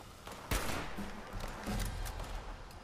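Shots ring out at a cargo bot in Fallout 76, several bursts and sharp reports spread over a few seconds, fairly faint and somewhat distant.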